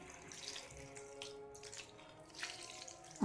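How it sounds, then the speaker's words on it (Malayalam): Vinegar poured into a gooseberry pickle makes a faint, steady trickle and splash of liquid lasting a few seconds, ending with a sharper knock close by. "അപ്പോൾ വിനാഗിരി ഒഴിക്കുകയാണേ"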